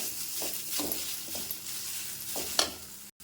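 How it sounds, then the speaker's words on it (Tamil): Grated coconut sautés in a pan for curry leaf chutney, a quiet sizzle punctuated by several soft spatula strokes, ending with a brief abrupt click. "அடுத்தது கொஞ்சம் தேங்காய் பூ அதையும் போட்டு லைட்டாக வதக்கிடலாம்"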